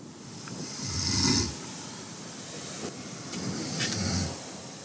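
People snore as they sleep together in a mountain refuge, two long, slow, rasping breaths rising and falling over a steady hiss of room noise.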